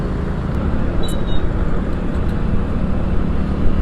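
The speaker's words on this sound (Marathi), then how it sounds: "कसलं ट्रॅफिक आहे रे भाई या पुण्यामध्ये" Heavy road traffic in Pune makes a dense, continuous roar of engines and tyres, steady and loud throughout, with a couple of faint high tones in the distance.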